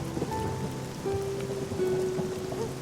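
Rain falls steadily in an outdoor scene, a continuous patter heard under faint tonal background sounds with no speech.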